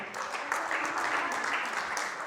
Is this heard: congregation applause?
yes